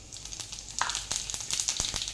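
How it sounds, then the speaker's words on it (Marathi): Cumin seeds crackle in hot oil in a kadhai, a soft continuous sizzle dotted with sharp rapid pops and spits, close but fairly quiet, with no speech. "जिरे छान तडतडले आहे"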